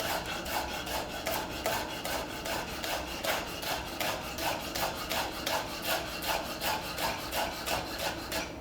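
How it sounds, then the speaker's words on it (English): A knife chops spring onion finely on a board in a home kitchen, a fast, even run of soft rhythmic taps heard close and alone. "take that root end off, and we're just going to chop this nice and finely"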